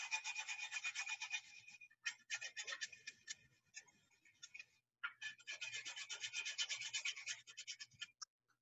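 Whole nutmeg scraped over a small grater above a bowl of festive punch, quick rhythmic rasping strokes in two bursts with a short pause between, close but soft and alone.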